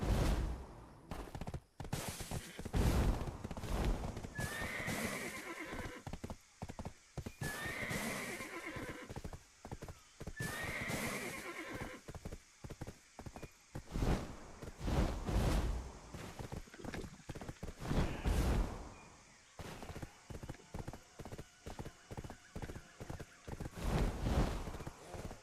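Horse in Black Desert Online neighing and whinnying repeatedly over steady clip-clop hoofbeats, loud and close, with scattered sharp bangs mixed in.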